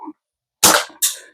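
CO2 air pistol firing BBs: two sharp, loud, close pops about half a second apart, each with a short hissing decay, preceded by a tiny click.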